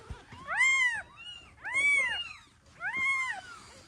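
Three plaintive kitten meows in a row from a small cat being weighed, each a clear arched cry separated by short pauses, close and fairly loud with no talk over them.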